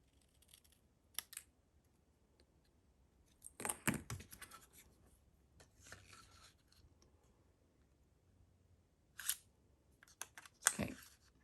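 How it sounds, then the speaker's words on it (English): Paper card trimmed with a cutter: a few faint, sharp slicing and sliding strokes scattered among quiet gaps, with small taps and rustles of handling between cuts. "I'm going to trim this side a little bit more."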